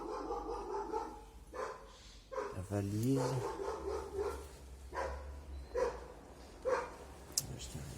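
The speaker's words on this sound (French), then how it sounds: "Le chien du voisin qui me fait chier, qui aboie." Neighbour's dog barking outside an abandoned, squatted villa, with several sharp barks scattered through the clip at moderate distance and a person talking over them.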